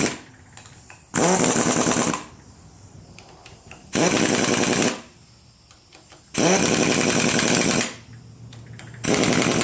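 Air impact gun set to about 85 foot-pounds tightening bolts on a 1966 Ford C4 transmission during a rebuild, four loud sustained rattling bursts of about a second each, separated by quieter pauses.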